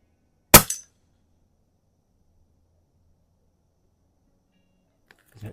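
A .22 calibre Pinty PCP bullpup air rifle fires one sharp, loud crack at a spinner target on a range, followed by a short ring-out and long near-silence, then a faint knock at the end.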